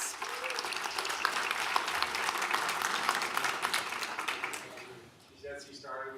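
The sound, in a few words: audience applause at service awards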